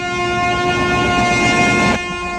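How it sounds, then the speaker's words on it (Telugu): A Godavari Express passenger train's steady rumble and tonal horn-like drone carry on loudly as it starts moving, then the noise drops abruptly near the end as the hum fades back. "అయ్యో ట్రైన్ స్టార్ట్ అయింది"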